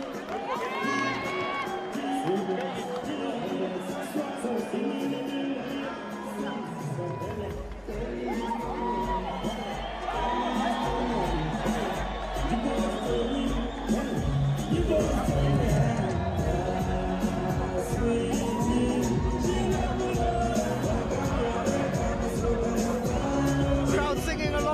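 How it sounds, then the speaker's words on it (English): Wrestling event crowd in a barn-brawl match, a dense roar of many voices chanting and singing along with loud arena music, cheers and shouts rising as the action builds, with a commentator talking over it. "Crowd singing along to the music."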